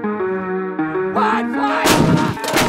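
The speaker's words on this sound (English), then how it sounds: "Today we are showing you what it's like to fire artillery." Australian Army artillery gun firing on a gun line: a sustained tonal hum gives way to one loud, broad blast that rolls on to the end.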